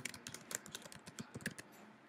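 Quick, irregular keystrokes tap on a computer keyboard while a name goes into a presentation title slide. The clicks are close and fairly quiet, with no voices.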